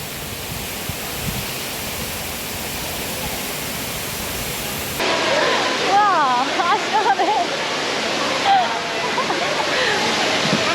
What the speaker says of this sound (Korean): 우와 폭포다 폭포.